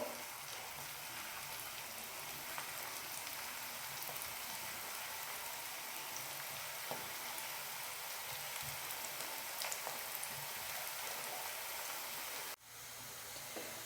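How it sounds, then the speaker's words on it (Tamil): Appalam balls fry in hot oil in a pan over medium flame. A dense, even crackle, much like steady rain, runs for several seconds, pauses briefly near the end, then goes on a little softer. "வச்சுட்டு இந்த பால்ஸ் எல்லாம் இந்த எண்ணெயில் சேர்த்துடலாங்க"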